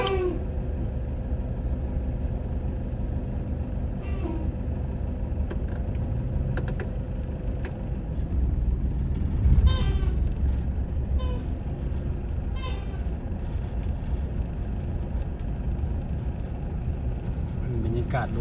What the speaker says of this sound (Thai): บรรยากาศรถติดเหมือนกันเด้อทุกคน